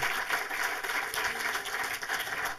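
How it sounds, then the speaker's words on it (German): Cinema audience applauding during a film talk for a 1980 movie, dense, steady clapping from many hands throughout, moderately loud and close, with no speech over it. "dafür schon mal einen Applaus."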